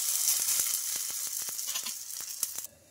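An oats breakfast fries in a pan with a bright, close sizzle, punctuated by light repeated spoon taps, before the sound drops off abruptly near the end.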